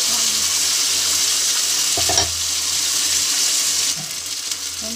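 Gravy pours into a hot tempering of kasuri methi and spices in a pan, setting off a loud, steady sizzle that changes briefly midway as it is stirred in.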